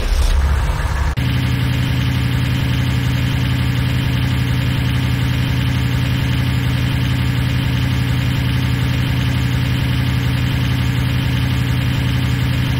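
A vehicle engine idles in Command & Conquer Renegade, a steady low rumbling drone that stays even and close throughout after a short opening sound.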